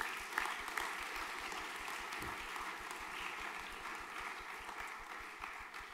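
Quiet, even applause from an audience at a junior graduation ceremony as students are recognised, a continuous crowd of clapping with no voices over it.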